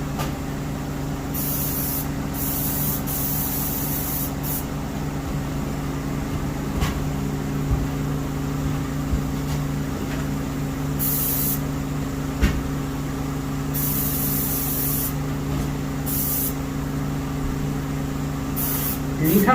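Spray paint hissing onto a carved wooden mallard decoy in a workshop, a steady near hiss with short louder bursts over a constant low machine hum.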